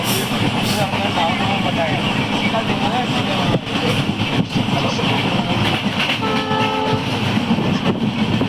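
Pamban Express passenger train runs with a continuous rolling rumble and rattling wagons, close and loud, and a tonal horn sounds near the end while someone talks over the noise.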